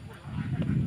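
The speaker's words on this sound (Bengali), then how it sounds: "ওই দেখেন এটা চীনা হাঁস।" Chinese ducks honking outdoors in Malaysia, a short burst of nasal honks over a low rumbling background, moderately near.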